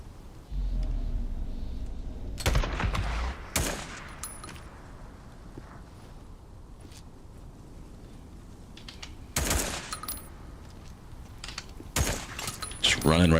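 Bursts of gunfire from the video game Days Gone Remastered crack out in a few separated volleys, loud and sharp against a quieter rumbling game backdrop.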